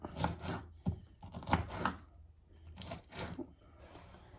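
Lettuce for tacos is chopped with a knife on a cutting board, a series of crisp irregular crunching cuts at close range, fairly quiet with short pauses between strokes.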